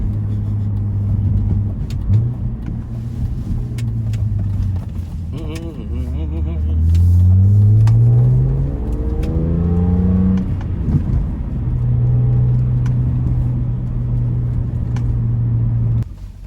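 A BMW E46 M3 climbs a snowy mountain road, its engine droning steadily before revving up through rising, wavering pitch as the car slides, then settling back to a steady hum, close and loud.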